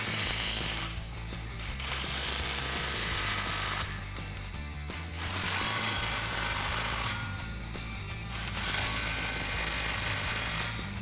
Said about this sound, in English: Grab your 15mm socket and tighten down the clamps.